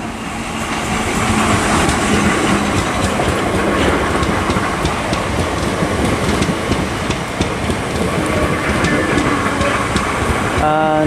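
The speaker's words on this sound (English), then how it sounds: "as a pair of 465s, two 465s together, they terminate in from London Charing Cross here at Sevenoaks" A pair of coupled Class 465 electric trains pull into Sevenoaks station on a line from London Charing Cross, giving a loud, steady rolling rumble with rhythmic wheel clatter that lasts throughout.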